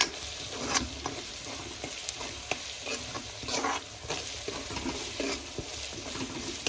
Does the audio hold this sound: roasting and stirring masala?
yes